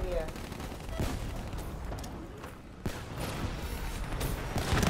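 Gunfire rattles through a match of Call of Duty: Black Ops III, rapid shots and bursts layered at moderate distance under a busy game mix, with occasional voices.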